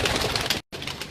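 Salara Teddy pigeons coo in a steady, fairly loud murmur, broken by a brief silent gap before the soft cooing resumes.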